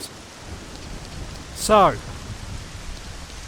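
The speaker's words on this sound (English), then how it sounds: "this grave where it perpetually rains" Steady rain falls without pause over a graveyard in the game Ocarina of Time, a soft even hiss under a brief spoken word and a short sweeping chime in the middle.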